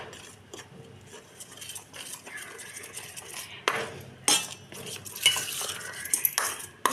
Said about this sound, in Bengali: একটু লঙ্কা আর একটু হলুদ গুঁড়ো দিলাম, দিয়ে একটা স্মুথ পেস্ট আমি তৈরি করে নিচ্ছি